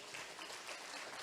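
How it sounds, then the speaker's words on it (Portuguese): Applause fills a church congregation throughout, steady and broadband, moderately loud with no voice over it. "Aplaude o teu Deus, aplaude."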